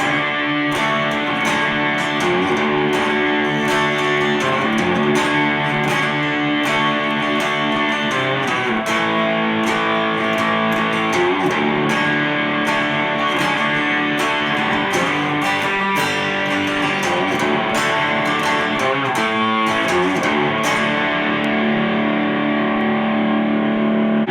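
A distorted electric guitar riff from a song plays continuously for about twenty seconds, loud and dense with chugging repeated notes and steady rhythm.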